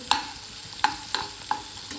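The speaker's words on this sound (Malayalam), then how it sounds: "നമ്മൾ എണ്ണയും പാനിലും ഒഴിച്ചിട്ട് നല്ല വാങ്ങിൽ വറുത്തു." Mango peels frying in oil in a pan give a soft, faint sizzle. Four sharp utensil scrapes or clicks sound against the pan at irregular intervals.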